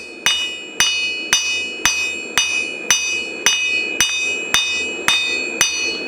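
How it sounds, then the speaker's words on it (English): Blacksmith hammering flat stock on an anvil, eleven sharp ringing metallic strikes in a steady even rhythm, close and loud with bright ring after each blow. "Set it down on the anvil. You're going to hit the corners"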